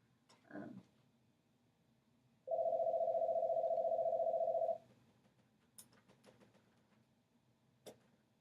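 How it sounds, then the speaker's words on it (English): A phone emits a steady electronic beep for about two seconds as its volume is adjusted during a pharmacology lecture, standing out clearly over a quiet room with a few faint clicks and knocks before and after. "I'm trying to turn the volume down on this phone."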